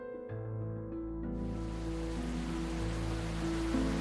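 Rain falls indoors in the video game Rainswept, a soft steady hiss that swells after a second and sits beneath sustained low musical tones.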